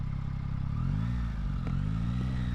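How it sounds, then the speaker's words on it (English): A 2024 Yamaha XSR900 GP's triple engine drones steadily while riding, loud and close, its pitch rising and falling as the rider works the throttle along a twisty, bumpy road. "This triple engine is beautiful in here."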